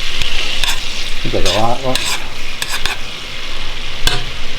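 A stick and a half of butter melts in a pot for broccoli cheddar soup, giving a steady, fairly loud sizzle with occasional stirring scrapes, while a voice speaks briefly over it.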